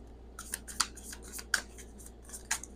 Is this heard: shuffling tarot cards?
yes